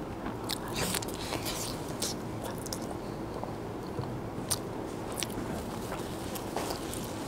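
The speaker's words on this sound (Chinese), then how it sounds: "就吃个梨" A pear is bitten and chewed close to the microphone during a Chinese mukbang livestream, with repeated crisp crunches and juicy, wet chewing in an irregular rhythm.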